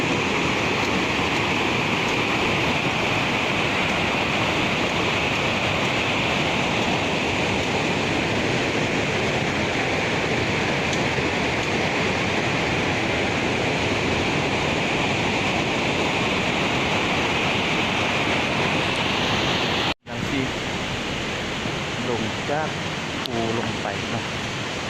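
Water from a waterfall and stream rushes steadily at close range in a broad, continuous roar that holds at the same level throughout, briefly cut off near the end.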